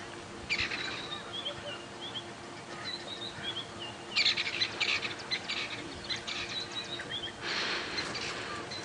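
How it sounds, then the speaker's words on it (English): Birds call and chirp at sunrise in the African bush during a safari drive, several bursts of bright twittering over a steady background hiss, moderately near. "Birds are all also just starting to wake up."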